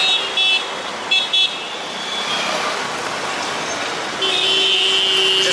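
Busy Mumbai street traffic, with cars, motorbikes and tuk-tuks streaming past close by and short horn toots cutting in near the start, then a steady high-pitched horn or whine holding through the last seconds.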